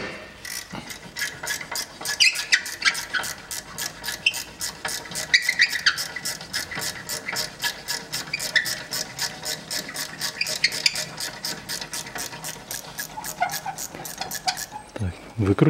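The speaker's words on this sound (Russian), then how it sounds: "Я Т30 взял, Т40 взял торкс. И откручиваю направляющие." A Torx bit on a ratchet unscrewing the rear brake caliper guide bolts of a Mercedes-Benz E-Class W211 2.2, with a long run of fast, even metallic clicks up close.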